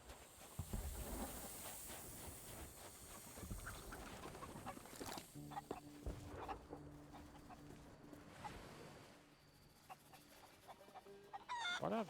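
Chicken clucking in a pirate-themed multiplayer video game, short clucks and squawks repeating over a busy bed of game ambience, fairly close and moderately loud with no talking.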